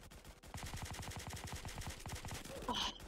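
Rapid automatic gunfire in a first-person video game set in an SCP facility, a steady burst of shots that runs for about three seconds, loud and close, with no talk over it.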